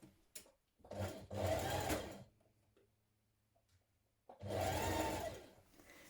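A sewing machine stitches a seam in two bursts, a short run and then a longer run, each with a rapid whirring chatter and a quiet pause between.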